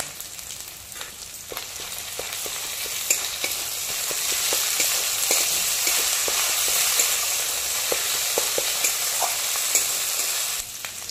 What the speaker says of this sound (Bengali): কাঁচা গন্ধটা যাওয়া পর্যন্ত ভালো করে ভেজে নেব।